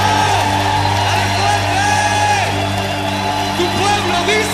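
An evangelical church congregation cheers, whoops and shouts during a worship service. The crowd noise is loud and continuous over a steady, low musical drone.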